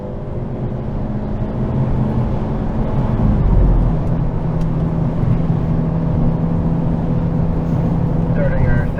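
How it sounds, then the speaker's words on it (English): A 2022 Hyundai Elantra N accelerates at full throttle on a race track, its engine roaring steadily in a continuous rising drone, with a voice speaking over it. "Full throttle here, out of that apex, into the brakes hard, right around the finish line."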